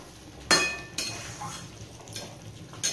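Fried vegetables are stirred into simmering gravy in a pan, a spoon striking the metal in several sharp, separate clinks and scrapes over a soft bubbling background.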